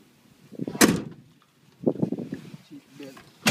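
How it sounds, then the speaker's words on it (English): A car door slams shut once with a sharp, fairly loud thump, surrounded by quiet talk from people inside the vehicle. "Close the door."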